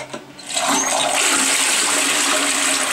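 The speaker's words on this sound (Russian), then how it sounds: "Нормально, вода набирается, унитаз спускает." A toilet in an apartment flushes with a loud rushing gush after a brief click, then water keeps pouring steadily as the tank refills, close and alone.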